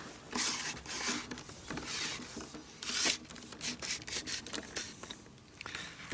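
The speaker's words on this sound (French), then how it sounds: "Donc ici, j'ai juste à dévisser." Close scraping and rubbing as a telescopic swarm-catcher pole is unscrewed and extended, with irregular gritty strokes and small clicks over about six seconds, no voices.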